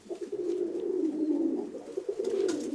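Pigeons coo in a low, soft, continuous warble close by, the rolling calls steady for a few seconds with faint background noise.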